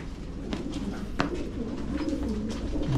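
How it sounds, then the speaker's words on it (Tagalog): A pigeon coos softly nearby, low repeated murmuring calls over a quiet background, with a few faint clicks. "Bantayan mo yung kalapati natin."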